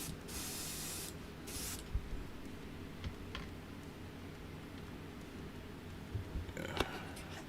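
Ammoniated window cleaner sprayed from a bottle during model painting, two hissing bursts near the start, then quieter ticks and handling noises.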